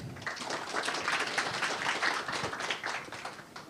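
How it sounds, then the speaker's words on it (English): An audience at a conference talk claps steadily for a few seconds, a dense, even patter of applause from many hands in a room. "Please give applause."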